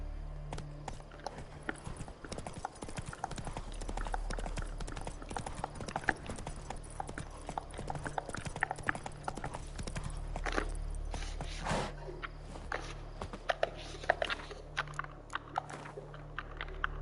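Hooves of the horse Roach in The Witcher 3 beat in a fast, steady galloping clip-clop throughout, close and clear over a low ambient game hum.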